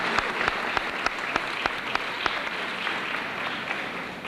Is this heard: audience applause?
yes